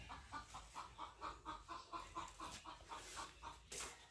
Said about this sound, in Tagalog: Kaingay po ng aming manok ng itlog.